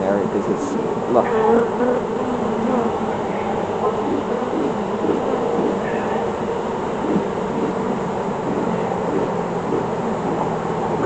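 Honeybees hum steadily around an open hive during a spring inspection, a dense, continuous buzz with occasional handling noises and voices talking over it.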